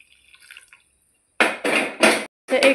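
Water is poured into sautéed rice in a cooking pot for masale bhat, with a few short splashing pours after a quiet pause.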